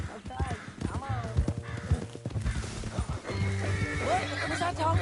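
A horse whinnies loudly several times over clopping hooves in a video game, with voices talking and a background tone from the game soundtrack.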